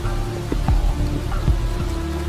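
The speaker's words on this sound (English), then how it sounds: "the rains not only bring new forage, but also welcome relief from the extreme temperatures of the bush. Until, that is, the rain just gets to be a bit too much" Heavy rain pours down in the African bush, a steady wash of falling water with scattered drips and patter, fairly loud and continuous, with some low tonal sounds under it.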